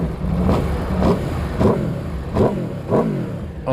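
2019 Aprilia RSV4 1100 Factory motorcycle with the 1100 Tuono engine starting up, then revved in five sharp rising blips with falling tails, loud and close.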